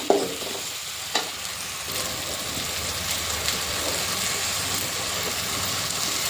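Potato masala sautéing in a hot pan gives a steady, close sizzle and frying crackle, with a couple of sharp scraping knocks of a spoon early on and no talk.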